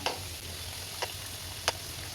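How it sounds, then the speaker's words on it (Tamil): Maida and rava dough snacks deep-fry in hot oil, making a steady, close sizzle broken by a few small crisp pops, with no voices. "இப்போ ரெண்டு சைடும் நல்லா வந்து ஃப்ரை ஆகி வரட்டும்"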